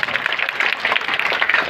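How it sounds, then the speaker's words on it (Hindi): Audience applause for the director after a stage performance of the Hindi play Andher Nagari, Chaupat Raja: a dense, steady patter of many hands clapping together for a couple of seconds, filling the hall. "अंकेश के लिए ताली"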